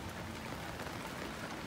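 Heavy storm rain pours down steadily, heard from inside a shelter as a dense, even hiss with no break across the short stretch.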